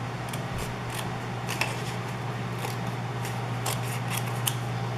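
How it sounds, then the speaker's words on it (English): Scissors snip the corner off a piece of paper in a series of short, crisp cuts spread across the moment, close and moderately loud over a steady low background hum, with no talking. "I'm just gonna cut that little bit of the corner off to make it fit"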